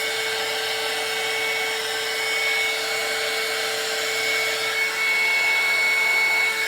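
A hair dryer blows hot air over a doll being dried, a steady close whine and airy rush holding constant throughout with no talking.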